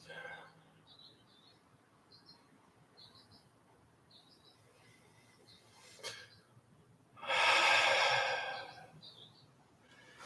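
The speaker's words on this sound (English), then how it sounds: "Inhaling slowly as much as you can, and then release the breathing." Slow, deep yoga breathing: quiet breaths, then one long, loud, airy exhale near the end, while small birds chirp softly in the background.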